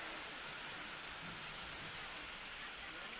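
Heavy monsoon rain pours down in Shahapur, Thane, where flooding has turned the streets into rivers; a dense, steady, loud hiss of rainfall fills the whole stretch without a break.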